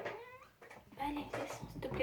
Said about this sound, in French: Excusez-moi, hein, c'est mon chat.